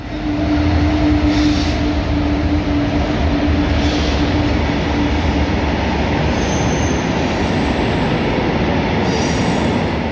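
A train rolls through a railway station in York, with a steady loud rumble of wheels on rails and faint squeals riding over it for the whole stretch. No voices are heard.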